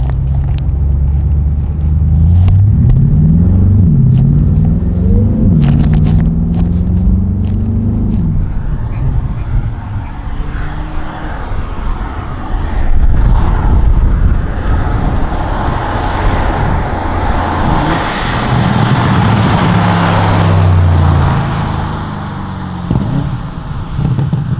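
A Bentley Continental GT V8 S drives along at an easy pace, its engine a deep steady rumble with rising and falling revs heard from inside the cabin, and someone talks over it at times.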